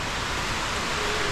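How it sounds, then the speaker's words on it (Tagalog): Heavy rain pours down in a steady, dense hiss that fills the whole moment, loud and even with no breaks and no voices. "Para bumuhos yung malakas na ulan."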